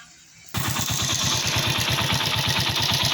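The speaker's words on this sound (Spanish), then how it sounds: "aquí ya estamos viendo con la moto encendida" A motorcycle engine starts after a moment of quiet and then idles steadily with a fast, even chugging pulse, close and loud, no talk over it.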